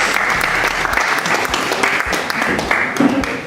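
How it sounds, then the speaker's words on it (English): An audience claps steadily throughout at a graduation-style event, a dense crowd of hands close to and filling the space, with no talk over it. "So clap your hands."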